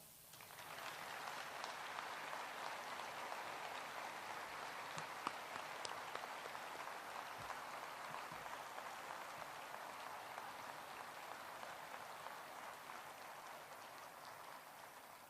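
Sustained audience applause at a Veterans Day ceremony at Arlington National Cemetery, a broad, steady patter of many hands that swells at the start and continues evenly, heard from a distance and fairly faint.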